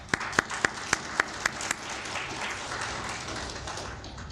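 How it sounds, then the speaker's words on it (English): A conference audience welcomes a speaker to the podium: a few loud, separate claps ring out first, then they blend into a soft, steady wash of applause that continues to the end. "let's give him a round of applause"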